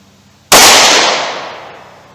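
A single sharp, loud pistol shot from a pocket gun firing Remington Golden Saber ammunition over a chronograph, a sudden crack followed by a long fading outdoor echo.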